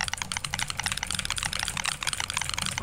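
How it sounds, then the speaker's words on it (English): Someone types fast on a loud computer keyboard, hammering the ASDF keys while playing the Press Any Key game. A dense, continuous, rapid patter of crisp, close keystrokes runs throughout. "Oh, I'm hitting the ASDF keys."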